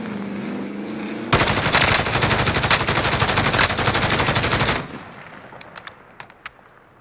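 Sustained full-auto burst from an AUG submachine gun in Call of Duty: Warzone, loud and dense for about three and a half seconds, followed by a few sharp distant single shots amid quieter game ambience.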